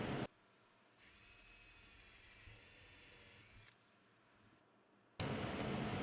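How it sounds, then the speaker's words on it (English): A power drill fitted with a countersink bit pre-drills holes from the underside of a homemade jointer push block. It whines steadily for a few seconds at moderate loudness, with a brief bump partway through, and is bracketed by louder noise at the start and end. "I'm drilling from the bottom side up, pre-drilling the holes with a countersink bit on there."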